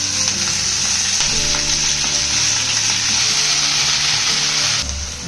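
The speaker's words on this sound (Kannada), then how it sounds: "ಈಗ ಮೆಂತ್ಯ ಸೊಪ್ಪನ್ನ ಚೆನ್ನಾಗಿ ಫ್ರೈ ಮಾಡ್ತಾ ಇದ್ದೀವಿ" Fenugreek leaves frying in a pan for chutney, a strong steady sizzle with soft stirring scrapes throughout, close and loud, dropping slightly at the very end.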